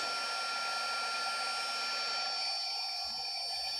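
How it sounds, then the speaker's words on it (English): A DIY CNC router spindle on a MILO V1.5 machine ramps up with a high, steady whine and layered tonal hum. The sound is close, continuous and alone, and a low tone drops away near the end. "Oh, it's got a ramp up time for the spindle."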